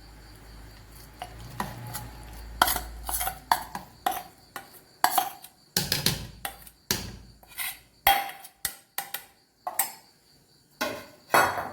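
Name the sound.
mixing ground chilli paste into adai dosa batter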